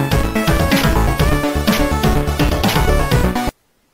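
Busy tracker-style electronic music from a Protracker module plays loudly with punchy drums and bright synth notes for a few seconds, then cuts off abruptly into silence.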